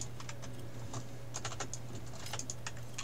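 Steady soft typing on a new non-clicky computer keyboard during a game session, quick muted keystrokes in irregular bursts over a constant low hum, with no talking.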